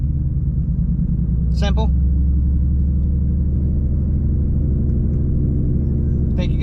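A manual car's engine hums and rumbles steadily from inside the cabin as it pulls away with the clutch released, while people talk briefly over it.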